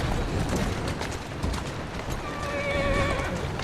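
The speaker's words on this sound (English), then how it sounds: "Who's a good horse?" In Assassin's Creed Syndicate, a horse lets out a loud, close whinny over the steady clip-clop of its hooves.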